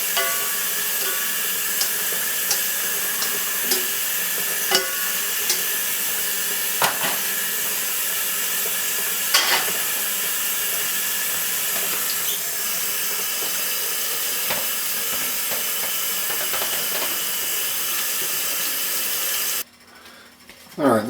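Raw ground beef being rinsed under a running kitchen tap, heard as a steady loud hiss of flowing water with faint clinks, ending abruptly near the close.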